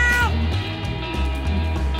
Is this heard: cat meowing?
yes